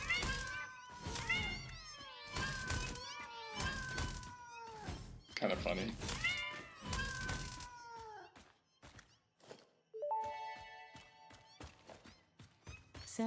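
In the video game Satisfactory, a cat in cat mode lets out a rapid series of loud, rising meows close by. Softer, scattered meows and game thumps follow, and someone talks briefly partway through.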